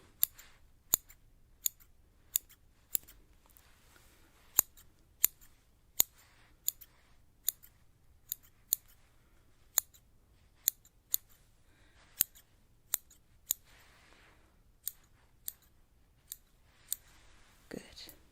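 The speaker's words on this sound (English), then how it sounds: "Just go trimming." Scissors trim split ends of hair up close, giving about two dozen crisp, isolated snips at an unhurried, uneven pace in a very quiet room.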